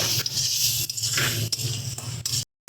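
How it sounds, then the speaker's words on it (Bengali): Spice paste frying with tomato paste for a pomfret curry, stirred with a spoon in a pan: close, repeated scraping strokes over a soft steady sizzle, ending in a brief silence. "টমেটো পেস্টটা দিয়ে সুন্দর করে এটাকে আমরা কষিয়ে নেব"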